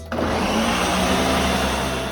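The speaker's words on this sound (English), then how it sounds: "we just put in the blender and blend it for 10 seconds" A blender blending watermelon whirs loudly and steadily, a dense motor roar that kicks in abruptly and runs without pause.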